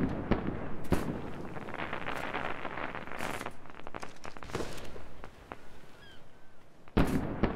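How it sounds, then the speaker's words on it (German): Turrets being shot at during a raid in Ark: Survival Evolved, a steady run of rapid gunfire cracks with sharp louder bursts near the start and end, all close and dense with no voices. "Ich schieße sie trotzdem jetzt kaputt."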